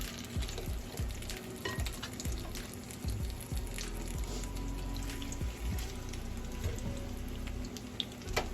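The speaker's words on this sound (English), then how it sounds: "We're going to fry these up a little bit, saute them a little, okay?" Pork neck bones frying and sizzling in a pot while being stirred, a steady close crackle with scraping stirs throughout and no talk.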